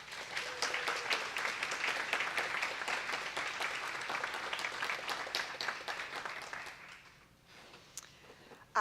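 An audience at a school board meeting claps steadily for staff of the year, a dense sustained round of applause that thins and fades toward the end, then a faint clap or two.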